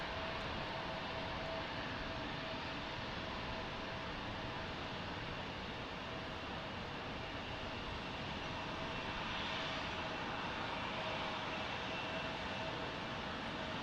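Airliner flight 1336 arriving at Salt Lake City airport from Kansas City, a steady distant hiss-like engine rumble sustained throughout, even and moderately faint, with no voices.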